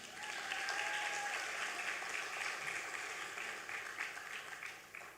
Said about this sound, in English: You can applaud for that too.